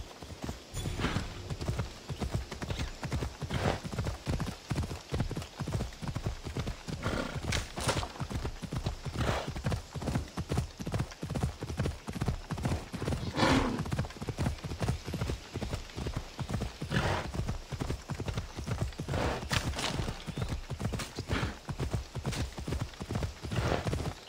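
A horse gallops under a rider in Assassin's Creed Odyssey, its hooves pounding in a fast, steady, close clip-clop that runs unbroken from start to finish.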